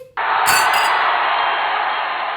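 Glasses clink in a toast with drinks, a sharp ring that starts suddenly and then lingers, broad and fairly loud, with a brief brighter chime layered over it near the start.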